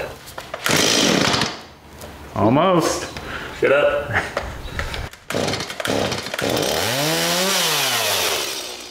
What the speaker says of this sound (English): Everybody knows chainsaws are tricky to start.